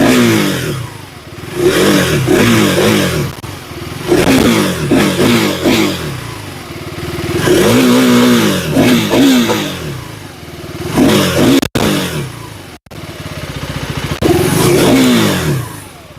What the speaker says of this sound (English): let's also fire up the engine once and let you listen to the exhaust of